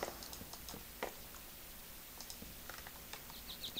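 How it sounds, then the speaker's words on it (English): Rapid computer mouse clicks while building in a Minecraft Technic modpack, a scatter of quick, sharp, close ticks spread unevenly across the stretch, fairly quiet and with no talk over them. "Getting overzealous with my clicking."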